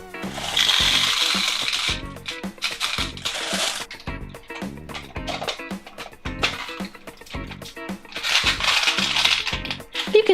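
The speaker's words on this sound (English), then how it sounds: "I'll pour them into Poppy's hair" Gumballs poured into the hair of a plastic Poppy toy, a busy run of hard clattering and clinking bursts, loud and close, tumbling in waves with short pauses between pours.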